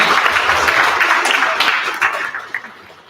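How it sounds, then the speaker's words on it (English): Audience applause fills a concert hall after a choir performance, a dense and loud wash of clapping that holds steady before thinning out toward the end. "So give them a big applause."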